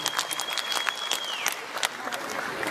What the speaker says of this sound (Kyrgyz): Шаңдыра кол чаап коюңдар туугандар